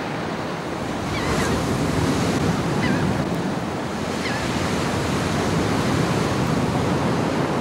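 Atlantic Ocean waves roll in at the Long Beach boardwalk on Long Island, a steady, loud wash of surf with wind rushing across the microphone.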